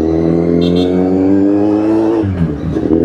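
Kawasaki Z800 motorcycle accelerating hard from a standstill, a loud close engine note rising steadily in pitch through the gear, then a brief drop at a shift before climbing again.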